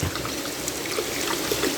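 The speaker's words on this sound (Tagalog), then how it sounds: "Ayan yung ating tubig." Water running from a hose into a fish tank water system, a continuous close splashing trickle with no pauses.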